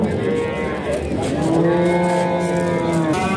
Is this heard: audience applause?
no